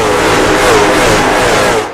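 Race car engines in the iRacing sim at Martinsville Speedway roar together as the field accelerates for the start, a loud sustained revving blend that holds steady and fades slightly at the end.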